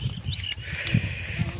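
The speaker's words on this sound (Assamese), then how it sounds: "শালিকাই মাতিছে।" A few sharp, squeaky whistled calls from a common myna, with a low rumble and rustling in the background outdoors.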